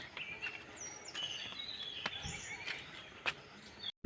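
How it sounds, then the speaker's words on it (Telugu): Birds chirp in a park, with thin high calls repeating over a low outdoor hiss, fairly faint and steady. "వినిపిస్తుందా బర్డ్స్ సౌండ్ అవన్నీ?"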